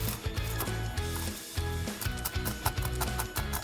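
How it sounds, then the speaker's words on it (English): Almonds are crushed for Dutch Kletskoppen cookies, giving repeated rough grinding and crunching strokes close up, uneven in rhythm with brief pauses between. "Start by crushing your almonds."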